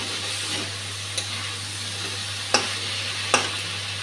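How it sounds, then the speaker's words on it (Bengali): Spice masala fries in a pan for pui charchari, a Malabar spinach dish, with a steady soft sizzle and hiss broken by a few sharp pops. "মশলাটা ভালো করে ভাজা হয়ে গেছে।"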